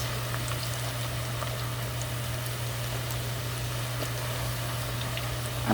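A dozen or so frozen onion rings frying in vegetable oil at 350 degrees, a steady close crackling sizzle over a constant low hum, no talk.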